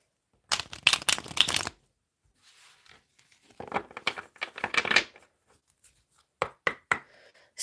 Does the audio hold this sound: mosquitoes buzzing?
no